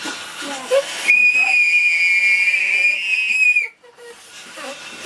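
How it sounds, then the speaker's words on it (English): A loud, shrill steam-style whistle blows steadily for about two and a half seconds, then cuts off abruptly, with faint voices before and after. "Whistle's done."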